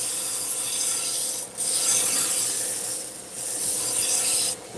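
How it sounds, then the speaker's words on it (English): Steady abrasive rasping of a single-bevel Kamikoto kitchen knife as the bevel is cut in, in long continuous strokes with brief gaps between them, loud and close. "Just cut in the bevel."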